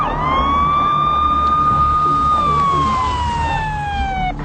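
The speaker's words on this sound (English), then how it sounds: "here come the ambulance" An ambulance siren wails loud and close throughout, a steady rising-and-falling tone over a low engine rumble, sliding down in pitch toward the end as the vehicle nears and passes.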